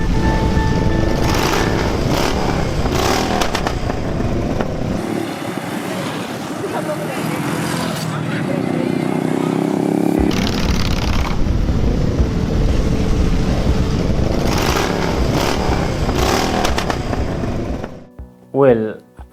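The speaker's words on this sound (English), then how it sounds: "Well, I do love the sound of my bike." A 1989 Honda Shadow motorcycle engine runs steadily and loudly up close, with a brief rise in revs midway, then cuts off near the end.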